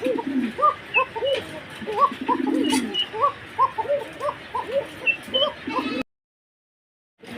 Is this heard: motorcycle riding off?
no